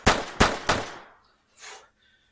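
Three loud, close gunshots from the video game Rad Rodgers ring out in quick succession, followed by short fading game effects and quiet.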